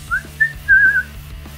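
A person whistles three short rising-and-held notes, moderately close, with faint low background hum and no talk.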